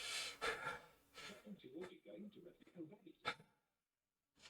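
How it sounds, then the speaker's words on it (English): Heavy, ragged breathing and gasps from several marchers nearby after a parade march, puffing in uneven bursts before it falls quiet. "just heavy breathing from all the men who put every ounce, everything they had into marching"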